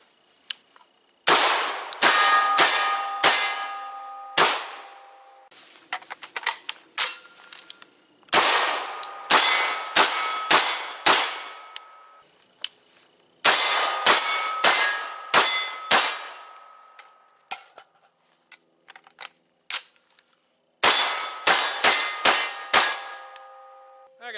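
Shots from an RIA VRBP100 12-gauge shotgun ring out in four rapid strings, each blast followed by loud metallic clangs and ringing from struck steel targets, with short quiet gaps between volleys.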